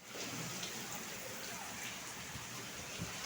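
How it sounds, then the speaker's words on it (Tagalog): Steady heavy rain pours down in Qatar, a dense even hiss of drops on surfaces heard close and continuous without a break. "too much rain"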